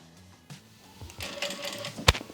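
A home sewing machine stitches on its own without the foot pedal, giving a brief mechanical whir that rises and then ends in a sharp click, surrounded by quiet room sounds.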